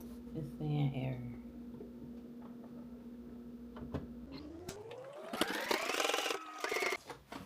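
A sewing machine motor hums steadily near the microphone, then its whirring rises in pitch and grows louder as it speeds up, while sewing a pocket on.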